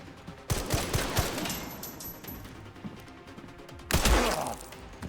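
Submachine gun fire in the video game Resident Evil Requiem, with rapid bursts of shots at the start and again near the end, loud and close, separated by a rumbling lull.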